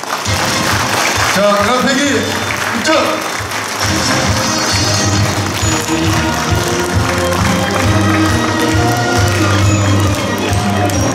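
Crowd applause and cheering greet the flag bearers entering at a Korean hometown association president's inauguration ceremony in Bucheon, a steady loud wash of clapping beneath a man's announcement over a PA.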